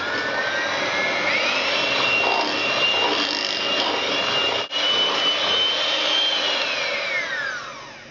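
An electric whisk whirs steadily through runny buttermilk batter for chocolate whoopie pies: a loud, close motor whine that rises in pitch early on, holds steady, then winds down near the end.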